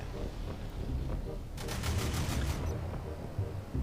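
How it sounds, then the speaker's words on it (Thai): Machine gun fire from an Mi-35M Hind helicopter in the naval combat game Modern Warships crackles in a rapid burst of shots midway through, set against a steady background rumble of game noise. "แต่มันยิงปืนกลไม่พร้อมกันว่ะ"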